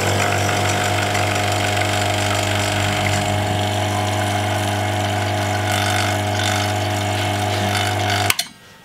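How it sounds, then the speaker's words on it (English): A vacuum pump runs on a vacuum chamber in a balloon experiment, a loud, steady mechanical drone with strong low harmonics that drops in pitch partway through, then cuts off abruptly with a clunk near the end. "let's start the pump"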